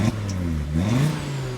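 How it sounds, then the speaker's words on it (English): An Audi RS3's five-cylinder engine revs hard, a throaty, warbling roar rising in pitch, loud and close, without any talking. "this 5-banger definitely has a unique sound to it."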